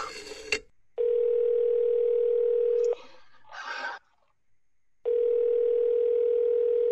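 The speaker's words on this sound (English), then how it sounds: "Ringing the police department." In a radio play, a telephone line rings in long, loud, steady electronic tones, two extended bursts with a short rustle and a pause of near silence between them.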